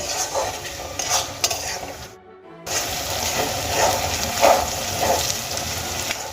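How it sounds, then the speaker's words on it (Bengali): Onion, ginger, garlic and green chilli sizzle in a pan as they are stirred, with soft scraping and clinks of a utensil over a constant frying hiss and one brief quiet gap. "এবার আমি এই সমস্ত উপকরণ খুব ভালো করে ভেজে নেব"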